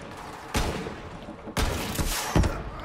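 Gunfire in the video game Borderlands 3 on PS4: a loud, close shot, then after a pause a quick burst of several heavy, punchy shots with booming tails.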